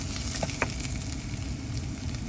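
Drumstick leaves sautéing in a hot pan for Kerala thoran, a dense steady sizzle close by with a couple of brief stirring clicks, no voices.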